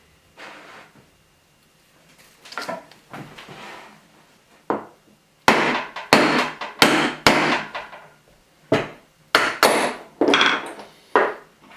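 A 1mm-thick metal disc for a jewellery dome is tapped out with a hammer, giving a series of sharp, close knocks that begin sparse and then come in a faster, louder sequence.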